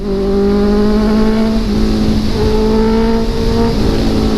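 A Honda CB650R motorcycle engine pulls hard under throttle while riding, a loud, steady rising drone that dips briefly at a shift or throttle change and climbs again, with wind rushing throughout.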